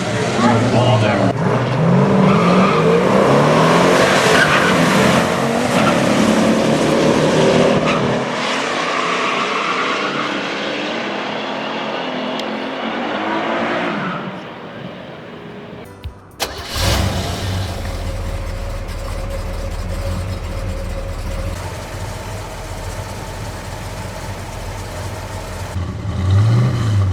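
A Buick GS 455 Stage 1 muscle car's engine roars loudly through a quarter-mile run, revving and accelerating, with a brief dropout midway before a steady, lower drone resumes under music and narration.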